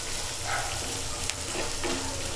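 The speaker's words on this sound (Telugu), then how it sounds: "కొంచెం ఎర్రగా వేగినా పర్లేదు ఆనియన్స్" Onions fry in a pan with salt for an idli snack, giving a steady, close sizzle with a few faint stirring scrapes and no talking.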